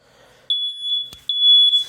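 A USA smoke alarm under a smoke test gives two loud, piercing electronic beeps in quick succession, close to the listener, with near silence before them.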